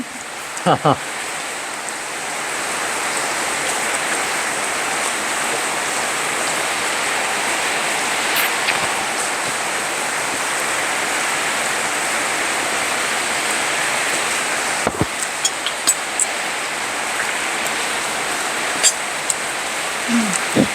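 Steady rain falls in Udon Thani, a constant hiss of water close by, with a few faint clicks and brief sounds scattered through it.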